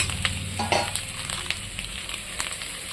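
Potatoes fry in a pan with chilli powder for a Bengali rohu fish curry, a dense close sizzle with scattered spatula scrapes and knocks throughout.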